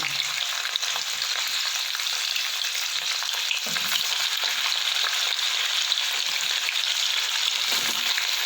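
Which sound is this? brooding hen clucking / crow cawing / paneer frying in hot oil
paneer frying in hot oil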